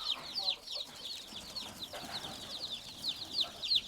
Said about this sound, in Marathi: हे फक्त 1 तासापूर्वी यांचा जन्म होऊन माझ्याकडे पिल्लं आलेली आहेत